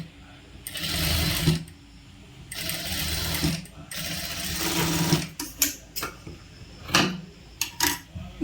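A sewing machine stitches piping onto a churidar in bursts of close, rattling whirring, three long runs followed by several short stop-start spurts.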